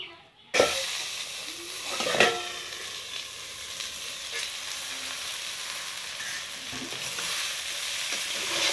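Kosu xaak (taro greens) and a fish head fry in hot oil, giving a steady, loud broadband sizzle that starts abruptly and carries on to the end, with a brief sharper flare early on.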